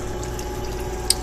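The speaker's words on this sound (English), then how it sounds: "You can see the water flowing back into it." Water flows back into the reservoir of a Lab-Volt water column rig, a steady low trickle and gurgle over a constant pump hum, with one brief sharp tick near the end.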